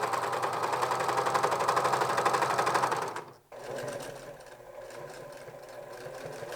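A sewing machine runs fast and loud, stitching a turtleneck shoulder seam with a steady rattling hum. It pauses briefly near the middle, then starts up again and continues at a slightly quieter level.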